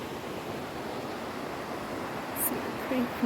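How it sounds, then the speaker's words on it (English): Creek water below Burney Falls in Northern California rushes in a steady, broadband wash throughout, fairly close and continuous, with a couple of faint higher-pitched chirps near the end. "There's the creek."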